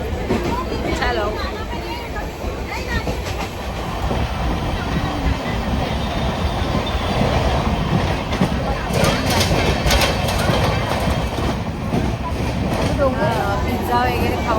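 A moving passenger train en route to Pune fills the space with a continuous rumble and rattling clatter. People talk nearby throughout over the constant carriage noise.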